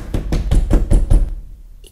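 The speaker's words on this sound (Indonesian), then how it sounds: "Itu siapa ya yang ngetok pintu?" Knocking on a door at a boarding school: six or seven firm, evenly spaced raps in a quick run, close and loud, then silence except for a faint click at the very end.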